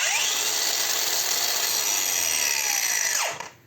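A DEVETECH AG-560W angle grinder runs at a loud, steady whine, then its electronic brake winds it down abruptly to a stop within a fraction of a second.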